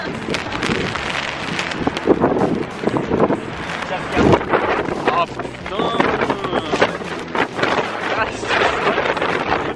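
Strong wind in Tokyo buffets the microphone in loud, gusty roars, with rain-like noise and people talking and exclaiming in French over it.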